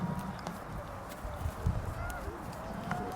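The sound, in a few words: horse hooves clip-clopping while riding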